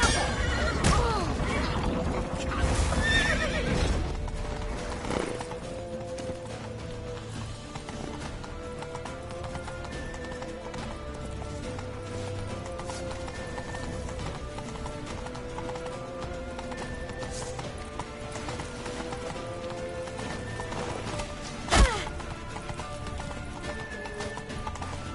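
Horse hooves clip-clop steadily in The Witcher 3, with a loud whinny near the start and a sharp thump later, over a faint game background and no clear speech.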